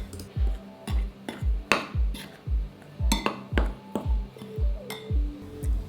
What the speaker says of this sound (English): Give everything a quick whisk to combine.